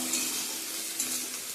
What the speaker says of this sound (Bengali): তো এদিকে ঢেঁকি শাকটা ভাজা করে নিচ্ছি